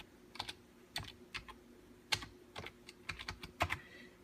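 A password being typed on a computer keyboard, a quiet, close run of irregular key clicks in short bursts with brief pauses, no talk.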